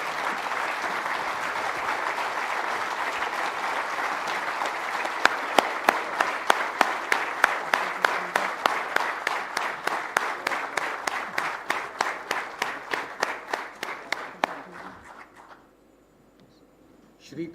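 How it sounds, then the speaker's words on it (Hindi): A large audience at an Adani Day event applauds for founder and chairman Gautam Adani's birthday, with loud sustained applause that turns into rhythmic unison clapping before fading to near silence at the end. "एक बार अपनी सीट पर खड़े होकर जोरदार तालियों के साथ हमारे संस्थापक और अध्यक्ष के जन्मदिन के लिए उनका अभिवादन करें"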